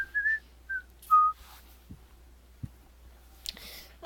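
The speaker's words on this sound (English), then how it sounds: "whistle a little tune while we're walking there" A person whistles a short, simple tune in a few clear bright phrases, with soft footsteps and light clicks between them and faint noise at the end.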